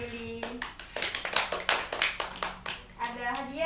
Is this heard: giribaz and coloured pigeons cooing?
no